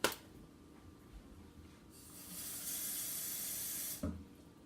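A faint hiss of water streaming steadily into an Instant Pot for about two seconds, preceded by soft clatter and ending with a small knock.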